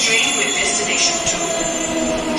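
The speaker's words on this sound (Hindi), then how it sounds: "अब मेरी मेट्रो भी आ गई है" A Delhi metro train pulls into the station with a loud, steady rumble and whining rail hum, wheels faintly squealing, filling the whole stretch close by.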